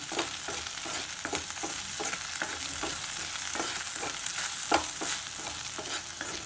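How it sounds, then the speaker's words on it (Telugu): Okra fry being stirred in a pan, with repeated scraping strokes of a spoon over a soft, constant sizzle, close and fairly quiet, with no voices. "ఒక్కసారి కదిలించండి."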